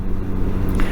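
A Yamaha FZ6's smooth fuel-injected four-cylinder engine gives a steady drone with a constant low hum, running at an even pitch for the whole second without other sounds.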